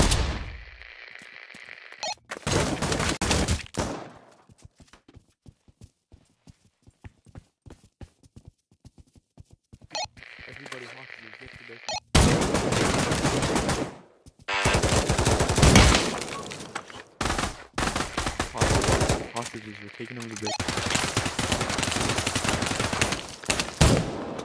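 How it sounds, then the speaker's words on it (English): Bursts of fully automatic weapon fire in a team deathmatch shooter game, mixed with clip-clopping hoofbeats and brief quiet gaps between loud volleys. "It's turning into team deathmatch with the fully automatic weapons."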